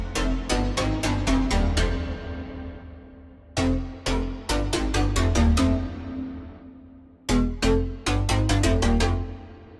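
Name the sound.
trance synth lead played through reverb effect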